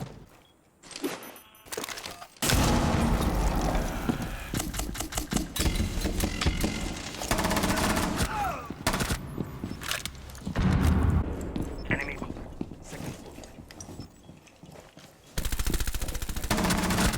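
Machine-gun fire in Rainbow Six Siege, loud rapid bursts of automatic shots broken by short pauses and played over a droning background, with voices talking in between.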